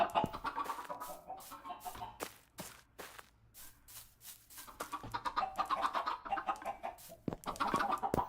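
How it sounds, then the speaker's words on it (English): Chickens on a Minecraft chicken farm, a busy chorus of repeated clucks and squawks, loud and close, with sharp pecking-like clicks scattered between the calls and a brief lull midway. "chicken farm's there, so it's a bit noisy"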